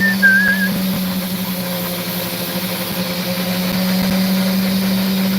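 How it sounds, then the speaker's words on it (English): Someone whistles a brief rising tune near the start, then it fades under a steady engine-like hum and a constant tonal drone that carry on alone for several seconds. "Whistles nonchalantly."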